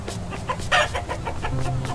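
Chickens in the My Neighbor Alice video game cluck in quick, busy bursts over a steady background of game ambience, with one louder squawk in the middle.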